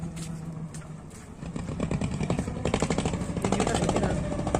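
A trawler engine chugs steadily with a rapid pulsing rhythm, growing louder over open outdoor ambience on the Ganges.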